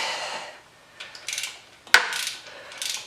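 A torque wrench ratchets in short bursts of clicking as it tightens the power steering bracket bolts on a Jeep CJ7 with an AMC 258 engine. One sharp metallic click sounds near the middle.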